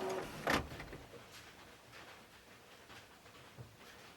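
Epson ET-2710 printer whirring, with a brief sharp mechanical burst near the start and then a faint, steady low hum that continues quietly on its own.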